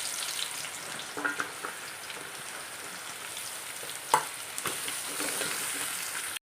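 Sliced onions hit hot oil with fennel, cinnamon and cloves for a koorka and pork dish, a bright steady sizzle with a couple of spoon scrapes and one sharp knock.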